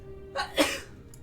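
A single short sneeze close to the microphone, a quick breathy intake followed by a sharp burst that fades fast into quiet.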